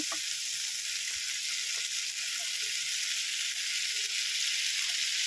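Pasta tossed with spices in a hot pan gives a steady, close sizzle of frying that runs unbroken throughout, with faint scraping of stirring.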